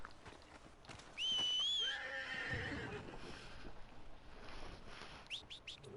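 A horse whinnies loudly with a rising-and-falling neigh in the video game Red Dead Redemption 2, followed by outdoor ambience, faint clip-clop and a few chirps in the background.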